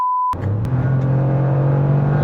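A Toyota GR Yaris GTS three-cylinder engine pulls hard under acceleration, giving a loud, sustained raspy drone that stays steady and close after a short beep and a sharp click at the start.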